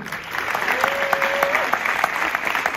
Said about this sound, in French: Et je vous demande d'applaudir M. Michel Gondry